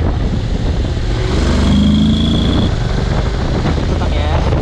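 A small motorbike rides off along a street in Fordon, Bydgoszcz, its engine a rough mid-range drone heard through heavy wind buffeting on the microphone, with a voice speaking over it.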